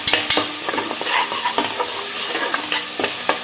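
Masala for a goat-head curry fries in a pan, a steady sizzle broken by sharp clicks and scrapes of a spoon stirring against the metal, close and fairly loud, without speech.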